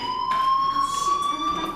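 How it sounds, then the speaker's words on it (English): A fire alarm in the video game Life is Strange rings loud and steady with a sustained electronic tone that holds throughout the short stretch. "do you hear that fire alarm?"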